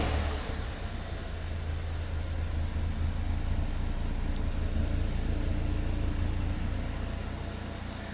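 A 2025 BMW X2 xDrive28i, started cold by remote, idles with a quiet, steady low engine hum that holds evenly throughout.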